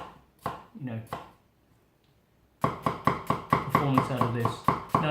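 A Toyama Gyuto 240 knife with a custom handle chopping onion on a board, a few slower cuts, then a quick steady run of crisp, close knocks.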